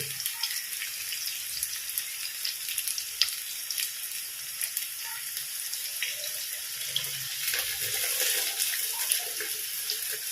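Tamarind water pouring into a pan of sautéed shallots for a Kerala onion theeyal, giving a steady close hiss and gurgling splash with soft sizzling underneath throughout.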